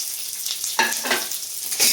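Dried chillies, green chillies, curry leaves and onion pieces frying in a pan, a bright steady sizzle up close with a few sharp scraping stirs of a spatula, no talking.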